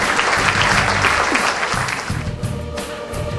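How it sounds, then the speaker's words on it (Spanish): An audience at a magic show applauds loudly for two volunteers, a dense, steady wash of clapping that tapers slightly near the end, with no talk over it. "El aplauso para esos dos, muchísimas gracias."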